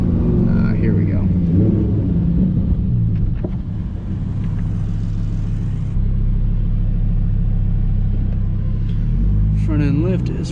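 Inside a Lamborghini Huracán Performante, the 5.2 liter V10 engine rumbles loud and deep as it accelerates, its droning tone steady and close, with voices briefly heard over it.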